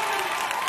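A crowd at a 2013 gala breaks into steady, full applause with some cheering mixed in, continuous and close for a brief moment.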